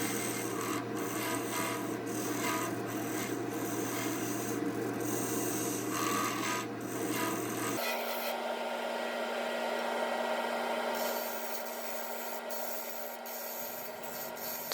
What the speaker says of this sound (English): Using the diamond parting tool to start making a tenon.